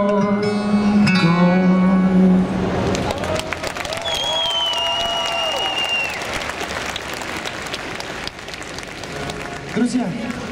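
A crowd applauds a cosplay team at a fan convention stage event, steady clapping running throughout, with a sustained musical tone and scattered voices layered above it.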